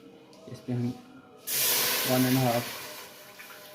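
Water pours into a cooking pot for aloo mutton shorba, a steady loud rushing splash lasting about a second, with someone talking briefly before and over it.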